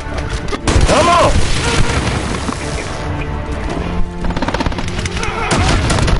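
Loud, dense gunfire from a Call of Duty: Modern Warfare multiplayer match, with booming shots and rapid bursts running almost continuously through the scene, mixed with game noise.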